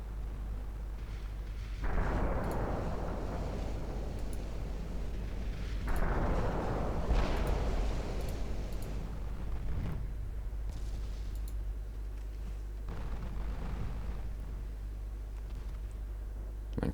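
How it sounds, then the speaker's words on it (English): Naval gunfire from warships against a lead ship in Ultimate Admiral Dreadnought, in cloudy weather: several heavy booming salvos, each a loud blast with a long rumbling tail, arriving at irregular intervals over steady low background noise. "Lead ship has been spotted and is coming under fire"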